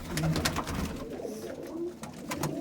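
Racing pigeons coo close by in a low, continuous murmur of overlapping calls, steady and fairly loud throughout.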